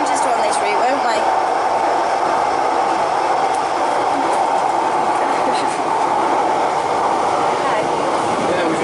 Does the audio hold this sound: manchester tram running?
yes